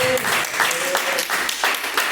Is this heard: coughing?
no